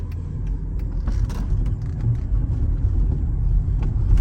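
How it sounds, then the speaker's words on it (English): A 2007 Mercedes SL550 with a 7-speed automatic transmission, running steadily on the road as it shifts up into second gear, its engine and road rumble close and continuous with a slight rise in level toward the end. "the 7-speed goes into the second gear much faster than the 5-speed"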